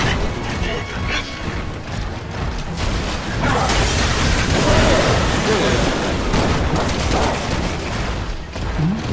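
Machine gun fire in Resident Evil 6 rattles on through dense gameplay noise, with crashes and mechanical clatter, while people talk over it.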